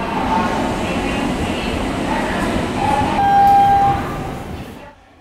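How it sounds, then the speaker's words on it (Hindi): A new Kashi Mahakal Express passenger train linking Varanasi with the Omkareshwar and Mahakaleshwar pilgrimage sites, its steady rumbling roll continuous and fairly loud, swelling briefly near the end before cutting off, with a faint high whine partway through. "तीन ज्योतिर्लिंग काशी विश्वनाथ, ओमकारेश्वर और महाकालेश्वर को जोड़ने वाली एक नई ट्रेन आज से शुरू हो गई"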